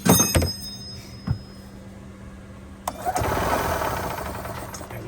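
A gas golf cart engine with a suspected carburetor issue or intake leak revs up as the throttle is pressed, rising into a loud, rough, sustained roar after a few clicks and knocks and a quieter idle.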